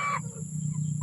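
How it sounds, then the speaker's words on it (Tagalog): Pet chickens in their new home give a brief cluck at the start, then a low steady hum continues underneath with a faint sound near the end. "Dito po yung ating mga manok."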